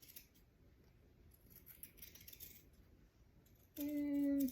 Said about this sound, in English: So you just want to cut right down the middle like this.